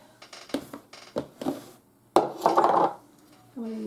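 A metal spatula stirs peanut butter cookie dough made with sugar, shortening and egg, giving close scrapes and light knocks in short bursts, then a longer, louder scraping stir.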